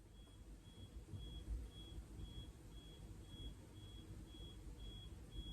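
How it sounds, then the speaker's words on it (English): A faint, high electronic beep repeats at a steady pace, roughly twice a second, over a low background rumble. "a beeping noise has just started."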